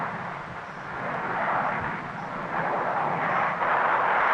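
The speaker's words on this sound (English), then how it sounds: "Steve Lambert streaks back across the field again to show us a fantastic series of fast aileron rolls" A Blue Angels jet roars past at an airshow while flying fast aileron rolls, its broad, rushing engine noise loud and swelling as it streaks across the field, with no talk.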